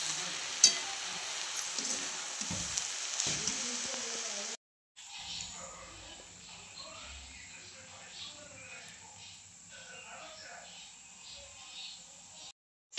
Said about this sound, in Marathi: आता एकदा व्यवस्थित हलवून घेते